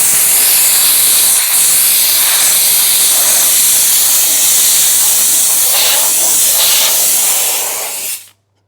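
A steam car wash machine blasts steam onto a car interior, a loud continuous hiss with slight surges throughout, cutting off abruptly at the end, no voices.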